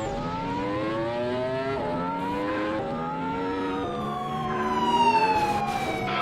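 A police car siren wails continuously with rising and falling sweeps during a chase in Roblox Vehicle Simulator, loud and close, with some engine noise swelling near the end.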